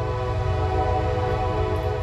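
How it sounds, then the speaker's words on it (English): A passing train sounds a loud, sustained horn over a continuous low rumble of rolling cars, close by and steady throughout. "excuse the train."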